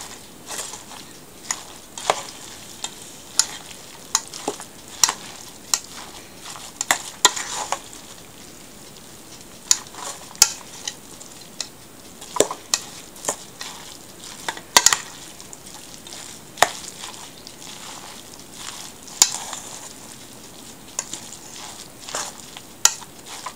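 Cod fish kebab mixture is stirred in a bowl, a quick run of sharp clicks and taps from the utensil over a faint, even background.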